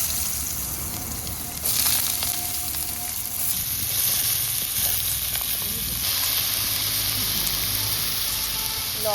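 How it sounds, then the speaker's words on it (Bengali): Potatoes fry in a pan with salt, turmeric and black cumin, giving a steady close sizzle that swells louder partway through and keeps crackling without pause. "হলুদ দিয়ে একটু আলুটা আমি হালকা ভেজে নেব"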